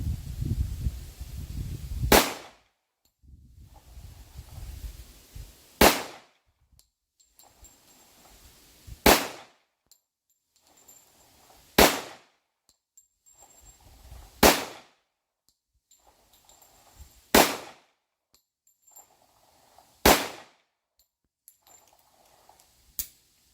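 A Girsan 1911C .45 ACP pistol fires brass-cased ammunition in eight sharp, loud shots spaced roughly every three seconds, each followed by a short echo and quiet pauses between.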